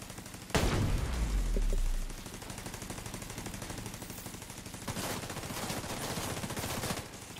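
Video game gunfire: a loud close burst of rapid automatic shots, then a lighter rattle of continuous firing that swells again near the end.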